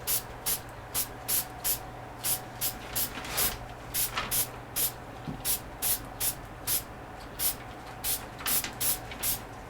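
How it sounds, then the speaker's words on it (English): A spray paint can fires short, light bursts onto a sign, about twenty brief hissing puffs in a fairly regular rhythm, close and crisp over a quiet room hum. "now we're spraying from the downward angle, but we want to be a really light touch with that spray can"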